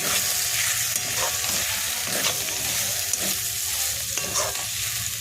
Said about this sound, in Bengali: এই সবগুলো ভালো করে এবারে মিশিয়ে নেব।